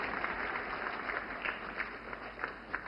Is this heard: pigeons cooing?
no